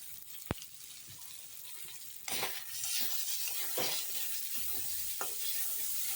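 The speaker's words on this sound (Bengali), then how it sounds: "দিয়ে ভালো করে কষিয়ে নিচ্ছি" Spice masala for ghugni being sautéed and stirred in a pan, a single sharp click, then a sizzle that swells partway through with repeated scraping stirs over it, no one speaking.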